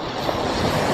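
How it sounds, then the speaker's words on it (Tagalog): Big ocean waves rush and churn around a fishing trip at sea, a loud continuous roar mixed with heavy wind buffeting the microphone, with no voices. "Lalaki na alon pre."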